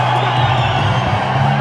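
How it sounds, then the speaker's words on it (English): A roaring crowd cheers and whoops at a Super Fight League mixed martial arts event in Surrey Fort Stadium, with a loud, steady wall of voices. "The crowd is electric here inside the Surrey Fort Stadium."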